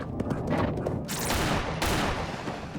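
Dense, rapid gunfire at a charging chimpanzee: loud overlapping shots crack in quick succession, then merge into a sustained roar of fire with no voices.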